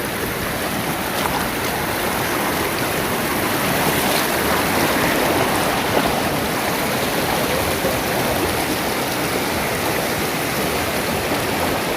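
Stream water flows steadily at a roadside stop in rural St Thomas, Jamaica. The rushing sound is loud, close and unbroken, with no speech over it.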